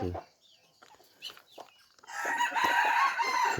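A wild junglefowl rooster of third-generation breeding stock crows loudly and close in a long drawn call, following a quieter stretch of faint clucks and small noises.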